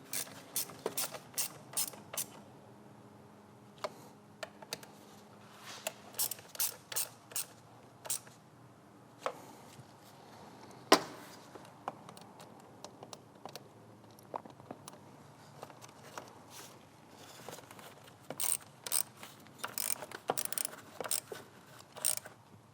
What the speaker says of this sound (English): And I'll just finish tightening down these top 3 screws.